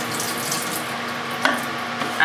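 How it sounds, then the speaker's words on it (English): Water runs steadily from a tap while rinsing developed film in a darkroom, a close, constant hissing splash with a slight surge and clatter near the end. "When the water's running clear, empty the water out"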